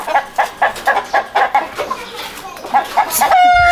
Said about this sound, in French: Va attraper la poule.